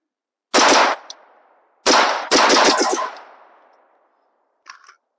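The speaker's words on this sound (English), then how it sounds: "I'm going to see if I can bump fire this AR." AR-15 rifle bump fired at an outdoor range: two loud rapid bursts of gunshots, the second longer with a quick string of cracks, each ringing off into a fading echo, then a faint metallic clink near the end.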